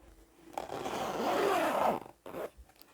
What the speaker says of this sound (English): Then we can open the zip all the way